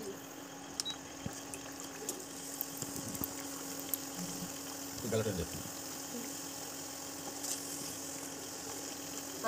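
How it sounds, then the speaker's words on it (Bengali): Small pieces of rolled nimki dough frying in hot oil in a home kitchen, a faint, steady sizzle over a low hum, with a short bubbling surge partway through. "এখন একটা একটা করে ভেজে নেব।"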